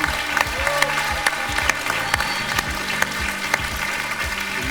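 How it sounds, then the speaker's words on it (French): An audience applauding at a French game show, steady clapping from a crowd with sharper individual claps standing out and some voices mixed in. "On l'applaudit, Lalia."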